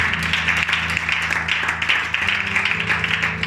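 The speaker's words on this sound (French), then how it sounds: "Donne-lui de l'acclamation à Dieu." A church congregation claps and cheers during a French-language sermon, a loud crowded burst of hand claps and voices sustained through the moment, with a low musical tone humming underneath.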